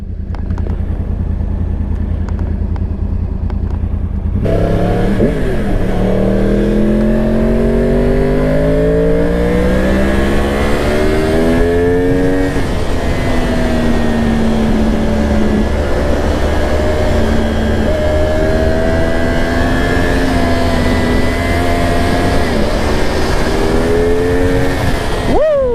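A Yamaha R1 sport motorcycle, fully stock, is ridden at speed: the engine roars up through the gears with rising, falling revs and a loud, close, sustained whine under wind noise.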